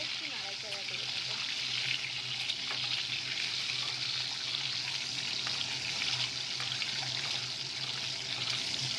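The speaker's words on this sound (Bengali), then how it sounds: "এবার আমি ডিম আর আলুটা হালকা ভেজে নেব" Eggs and potatoes fry lightly in a wok, giving a steady sizzle with occasional stirring scrapes, close and even throughout, while a person talks over it.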